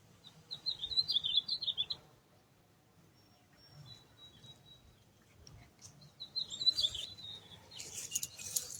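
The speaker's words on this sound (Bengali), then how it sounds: "এই গাছটায় পাখি আসে তো," Small birds chirp in a garden tree in two bursts of rapid, high trilling a few seconds apart, fairly faint against a quiet outdoor background, with no talk.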